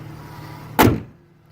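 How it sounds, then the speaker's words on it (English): The hood of a 1994 Cougar slams shut once, a single loud close thud that dies away quickly over a faint background hum. "But the hood shuts, nothing rubs."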